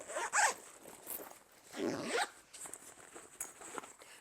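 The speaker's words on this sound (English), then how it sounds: "So it expands, but you can zip it up." Zipper of a travel bag's expandable back panel being pulled closed, a few short rasping zips close by, with someone talking quietly around them.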